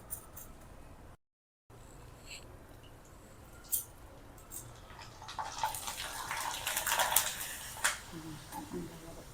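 Handi papad made from soaked, dried rice puffs up in moderately hot oil, starting with a faint hiss and building to a busier, louder bubbling sizzle toward the end, heard close with no talk.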